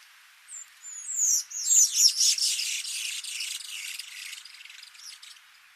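Backyard birds calling as they reunite, a flurry of high chirps and twittering that swells quickly, peaks in a busy cluster, then settles into softer continuous chatter, heard alone at moderate distance.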